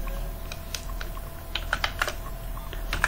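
Keys on a computer keyboard tapped in quick irregular bursts while PHP code is entered, close and clear with a steady low hum beneath and no talking.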